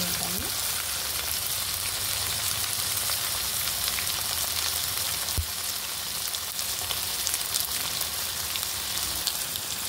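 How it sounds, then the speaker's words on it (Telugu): Potatoes and broad beans frying in a pan for an aloo chikudukaya curry give a steady, close, dense sizzle that runs unbroken from start to finish with no pauses. "ఇది కొంచెం ఫ్రై అయ్యే వరకు మూత పెడతామండి"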